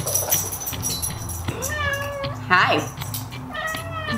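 Pet cat meowing indoors in a home: several drawn-out, rising meows and a short yowl, close and clear, mixed with someone speaking briefly and some background clatter.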